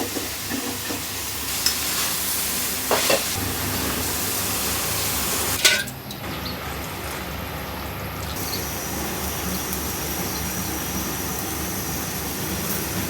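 Steady hiss of spices frying in a pan for a rohu fish dish, with a few brief clinks and scrapes early on, then a constant crackling sizzle continuing alone.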